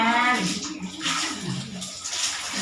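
Water sloshing and splashing in a bath, continuous and fairly loud, with a voice and other talk faintly mixed in.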